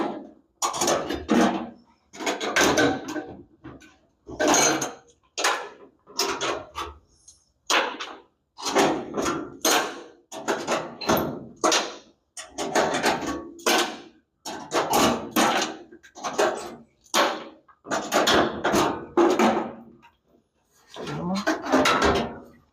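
Cleco fasteners being unscrewed and an engine cover lifted out of a patina'd 1947 Ford COE truck: a steady run of short knocking, clattering handling bursts, close and fairly loud, repeating for the whole stretch with brief gaps between them.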